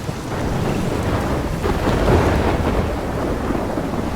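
Thunderstorm in the video game Life is Strange: a loud, continuous roar of heavy rain and wind with a deep rumble of thunder swelling in the middle, dense and enveloping without any voices.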